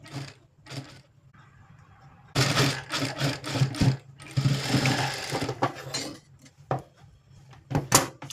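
A sewing machine stitches piping along a blouse neckline in short, rapid bursts of whirring stitches, close and distinct, separated by pauses filled with light handling knocks and clicks.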